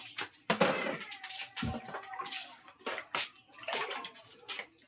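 Water splashes and sloshes as things are washed by hand, giving irregular close bursts of splashing with short quiet gaps and a faint clink or two.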